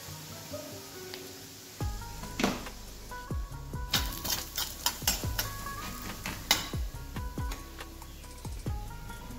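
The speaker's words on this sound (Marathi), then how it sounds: "आता यात टाकून मी थोडं जिरं, त्यानंतर टाकून घेणार आहे शेंगदाण्याची चटणी" Cumin and peanut chutney go into a hot pan with a spoon stirring, sharp scraping clinks and utensil taps over a light sizzle, irregular and close, without talk.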